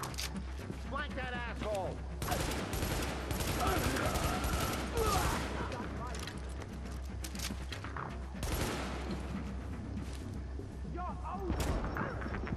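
Gunfire in Tom Clancy's The Division: rapid bursts of shots and clattering weapon sounds roll on steadily at a moderate level, with a voice talking over the shooting at times.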